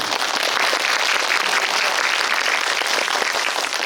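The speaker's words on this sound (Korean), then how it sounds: "큰 박수" A theater audience at a film screening talk with the director and actress claps steadily, a dense, even wash of many hands that stays loud throughout without voices.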